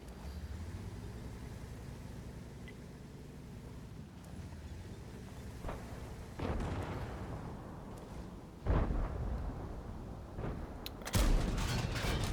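Tank cannon fire in World of Tanks from an AMX 50B sniping an enemy tank: several loud booming shots, one around the seven-second mark and heavier blasts near nine and eleven seconds, over a steady low engine rumble.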